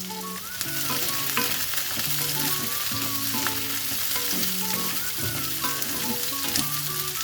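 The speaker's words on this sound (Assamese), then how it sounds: "অকণমান ভাজিম পিঁয়াজখিনি" Onions sizzle and crackle in a pan while being stirred for a South Indian style pork dish, a close, steady frying hiss with light scraping, under soft background music.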